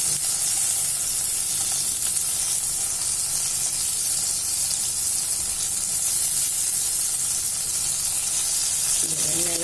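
Onion and garlic frying in a pan for garlic chutney give a steady, dense sizzle that runs unbroken and fairly loud, with no talk over it.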